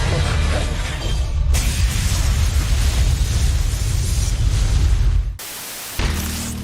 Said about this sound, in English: Hit him with the Yamato cannon.